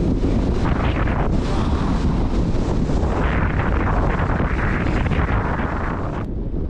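Strong mountain wind batters the microphone on a snowy Munro climb at Beinn Dearg, a loud, continuous rumbling roar with gusty surges throughout.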